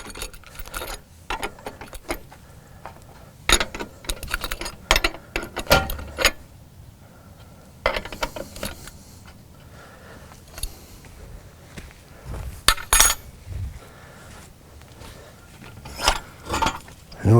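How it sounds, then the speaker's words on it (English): Metal bolts being released on the legs of a Wedgetail camper, with repeated close clanks, scrapes and rattles in irregular bursts and no talk. "Release the two bolts."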